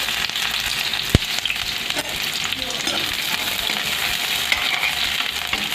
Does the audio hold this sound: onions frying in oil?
yes